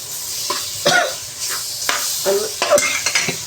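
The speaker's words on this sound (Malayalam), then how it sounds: "ഇതൊന്ന് ഇളക്കി ഒന്ന് ഈ പൊടിയെല്ലാം ഒന്ന് മൂത്തതിന് ശേഷം" Spice powders stirred and fried in a pan while cooking a Tamil-style chicken biryani, with scraping spoon strokes against the pan at an irregular rhythm over a faint background sizzle, close and fairly loud, with no talk.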